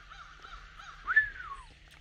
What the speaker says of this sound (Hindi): चिड़िया भी आ गई।